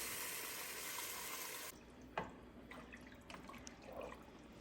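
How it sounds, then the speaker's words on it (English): Homemade vegetable broth poured into a soup pot on a kitchen stove, a steady splashing liquid stream that stops abruptly partway through, followed by a few scattered drips and light clinks. "it's time to pour in our 8 cups homemade vegetable broth"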